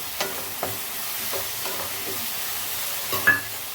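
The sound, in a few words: stir-frying tamarind leaves in mutton tripe curry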